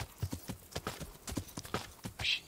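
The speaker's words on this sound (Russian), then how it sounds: "Это конь 5-го уровня." Horse hooves walking on a path in the video game Kingdom Come: Deliverance, a steady clip-clop of footfalls at an even pace, close and clear with no talk.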